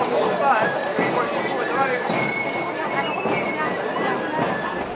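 Nearly sixty harnessed horses draw a branch-decked cart through a Saint-Éloi procession in Châteaurenard, France, hooves clip-clopping steadily and close throughout amid a murmuring crowd and faint voices.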